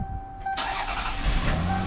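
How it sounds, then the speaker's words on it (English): A 1994 Toyota Camry engine cranks and catches in the middle of a short clip, then settles into a loud, steady idle close by. "So I'm going to be starting up the car."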